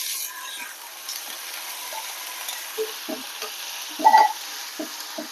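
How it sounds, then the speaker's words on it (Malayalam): Tapioca leaves stir-frying with turmeric in a pan, a steady close sizzle with soft scraping stirs and a brief louder crackle near the end, no voices. "ഇതൊന്ന് നന്നായി പൊരിഞ്ഞു വരട്ടെ"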